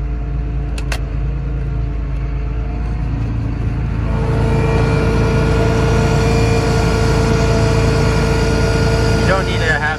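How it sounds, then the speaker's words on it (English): A blower on an SM500 seed drill, set up for planting wheat, starts and runs steadily, its low rumbling drone rising in strength partway through and then holding close and loud alone. "Let's see if our blower will turn on now."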